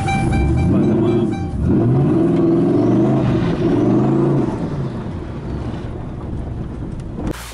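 A turbocharged car, its injectors, MAF and tune being sorted, pulls hard into boost on the street, loud and close with rising engine tones and heavy wind noise over the cabin before the pull eases off.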